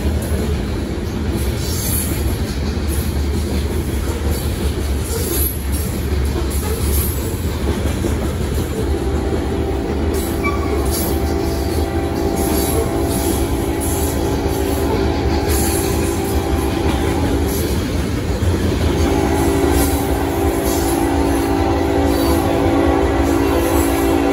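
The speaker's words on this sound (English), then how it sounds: "Not only that, but look, there's another CSX coming." CSX freight train rolling past a railroad crossing at close range, a loud continuous rumble with wheel clatter and intermittent squeal and ringing tones throughout, steady and unbroken, with no voices.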